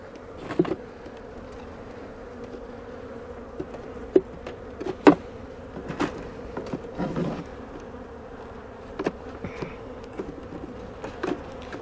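Honey bees buzzing around an open hive during a honey super installation, a steady close drone with scattered clicks and knocks of hive frames, no talking.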